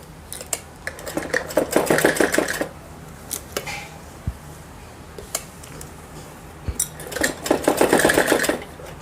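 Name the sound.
sewing machine stitching a Patiala salwar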